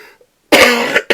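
A single sharp, loud cough bursts out close to the microphone after a short quiet pause, followed by the start of a second cough.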